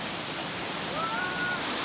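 Balagbag Falls pours down in a dense, constant broadband rush of falling water, loud and close, with a faint whistle-like tone briefly riding above the roar.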